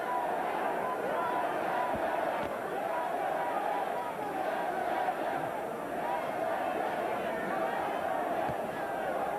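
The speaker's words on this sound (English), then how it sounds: "Polish crowd chanting in Polish in the upper deck" Polish fans in the upper deck of an arena at a boxing match chanting in Polish, a steady distant roar of massed voices filling the hall beneath close commentary.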